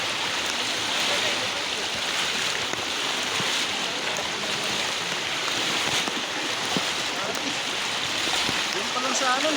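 Floodwater flows across Kambal road in Guitnang Bayan 2, San Mateo, Rizal, as a constant broad rushing wash, close and steady throughout, with voices nearby.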